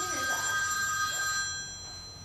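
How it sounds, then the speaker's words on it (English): A telephone bell rings steadily during a dress rehearsal of the stage play Seven Keys to Baldpate, its sustained trill fading slightly near the end with no talk over it. "Would you kindly answer that phone?"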